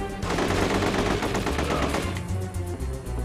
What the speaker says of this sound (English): I'm getting shot to bits here.